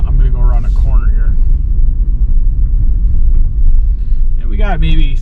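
A 2021 Toyota 4Runner in four-wheel drive rounds a corner in 3-4 inches of snow, its engine giving a steady, heavy low rumble with a little added gas. Someone talks briefly at the start and again at the end.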